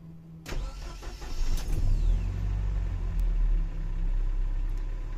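A Mercedes-Benz 190E with an M102 engine converted to custom full EFI cranks briefly and catches, then settles into a loud, steady, rumbling idle close by.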